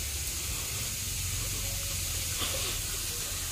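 Ginger, garlic and green chili paste sizzles in a pan while prawn curry with coconut is cooked, giving a steady, soft hiss of frying with no talk.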